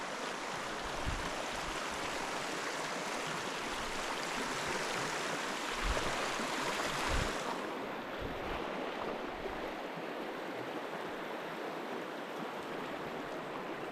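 Stream water rushes steadily during a river crossing on foot in wilderness country, a broad continuous wash with a few soft splashes and thumps as boots step through.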